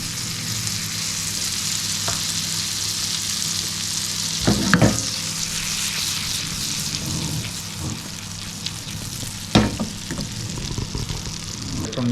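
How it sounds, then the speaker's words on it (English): Butter sizzling in a pan as the base for a lobster sauce, a steady bright crackle throughout with a couple of louder clatters of utensils against the pan. "we're going to add in our butter into our pan to start getting the sauce going."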